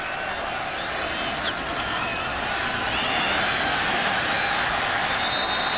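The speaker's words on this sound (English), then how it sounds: "the cheer goes up from the Texas Tech rooting section" A large crowd at the 2014 Arkansas vs Texas Tech college football game roars steadily from the stands, a loud continuous wash of cheering that swells slightly toward the end.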